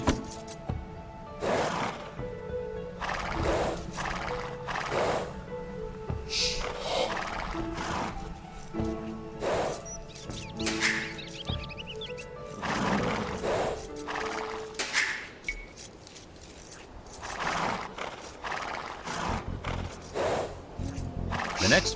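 Scout cavalry horses in the video game Age of Empires II, with whinnies, snorts and hoof clip-clops repeating in short bursts over a steady game soundscape, moderately loud and without talk.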